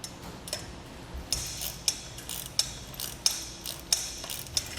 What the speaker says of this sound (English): Now we can begin tightening down the lock nuts onto our bolts.